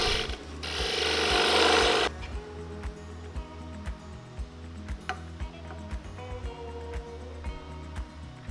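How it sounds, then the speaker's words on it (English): A wooden tenon is turned on a lathe: a close, rough scraping cut for about two seconds, then the lathe keeps running with a steady rhythmic thumping and ticking of the spinning workpiece. "I put it on the lathe and just kept turning until I had a tenon that was plenty long"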